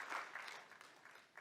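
An audience at an annual award ceremony hosted by a singer applauds in honour of a guest, a dense, steady wash of many hands clapping together at moderate volume.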